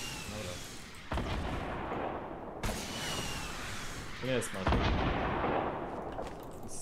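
Gunfire in Fortnite battle royale, loud booming shots and bursts over continuous game noise, with players talking over the action.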